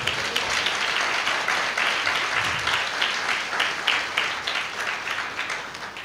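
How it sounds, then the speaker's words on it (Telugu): A church congregation in Palakonda claps loudly and steadily, a dense close burst of hand claps filling the whole stretch. "క్లాప్స్ కొట్టాలి గట్టిగా."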